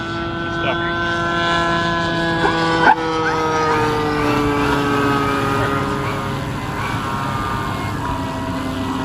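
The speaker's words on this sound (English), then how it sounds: "I think it's a P-26 Peashooter, if I remember correctly." Scale RC model of a Boeing P-26 Peashooter flying at a warbirds airshow, its engine a steady buzzing drone whose pitch slowly drifts lower as it passes, loud and continuous.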